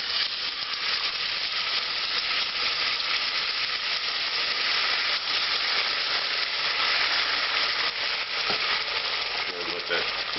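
Tomato sauce hits smoking-hot peanut oil in a pan while cooking Georgian lamb kharcho soup, giving a loud, steady, close sizzle and hiss that holds unbroken throughout, with no voices.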